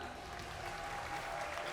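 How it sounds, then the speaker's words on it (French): Audience at a Japan Expo show applauding a new contestant called on stage, a steady, moderately distant burst of clapping throughout. "Mesdames, messieurs, applaudissez votre nouveau candidat."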